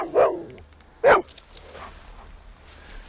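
A dog barks twice, sharp and fairly close, with a pause between the two barks, then fainter low noises trail off in a quiet room.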